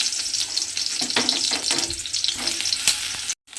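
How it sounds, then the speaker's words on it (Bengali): Long-sliced brinjal goes into hot oil and fries with a loud, close sizzle and crackle, with spatula scrapes and a brief dropout near the end. "এখানে আমি বেগুনটা লম্বা লম্বা করে কেটে রেখেছি, সেই বেগুনগুলো আমি তেলের মধ্যে দিয়ে দেব"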